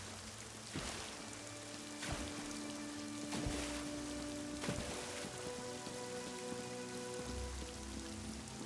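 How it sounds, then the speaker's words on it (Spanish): Steady rain pattering over a surface in the video game The Elder Scrolls Online, a continuous wash of drops with soft tonal game sounds and occasional brief clicks layered in, no talking. "aquí siempre está lloviendo"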